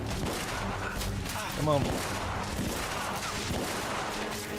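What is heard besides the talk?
gunfire in video game The Order: 1886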